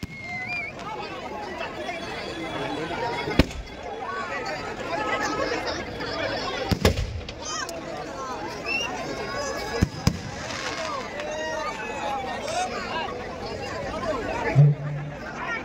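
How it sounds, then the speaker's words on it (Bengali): A fireworks display at a Jagaddhatri Puja celebration beside a roadside canal, with sharp bangs and crackles popping at intervals over steady crowd chatter and a voice on a loudspeaker. "আমাদের আবার বাজি প্রদর্শনী শুরু হয়েছে।"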